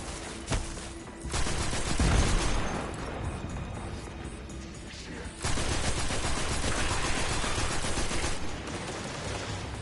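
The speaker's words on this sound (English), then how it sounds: "I'm just shooting into nothing. I'm just hoping it kills him." Rapid sustained gunfire from the player's weapon in Destiny 2 on PS4, dense loud bursts of automatic fire with a short lull between two long volleys.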